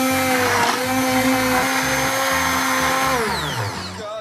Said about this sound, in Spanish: voy a añadir 2 huevos y lo voy a mezclar todo con la batidora eléctrica